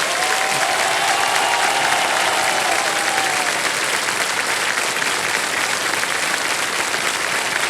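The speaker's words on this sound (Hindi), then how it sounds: "तालियां बजती रहे इनके लिए।" Studio audience applauding on the KBC game show, a dense, steady ovation that holds at an even, loud level for several seconds with no voices over it.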